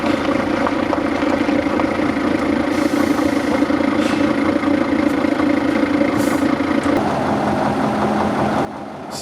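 A Renault Magnum truck drives along a gravel road, its engine droning steadily and fairly loud throughout, with a shift in tone near the end as the rumble briefly drops.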